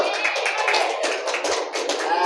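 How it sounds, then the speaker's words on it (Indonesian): Children clapping hands in a primary school classroom, a brief burst of quick, uneven claps that soon thins into scattered taps, with voices mixed in. "Tepuk tangan dulu."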